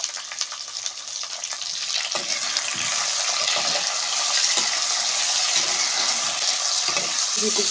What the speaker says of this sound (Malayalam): ഇനി കട്ട് ചെയ്ത് വെച്ചേക്കുന്ന മാങ്ങയും മുരിങ്ങക്കയും തക്കാളിയും പച്ചമുളകും ഇതെല്ലാം കൂടെ അങ്ങ് ഇട്ട് കൊടുക്കും